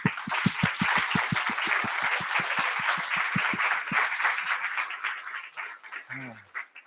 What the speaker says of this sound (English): Please give Peter a huge round of applause.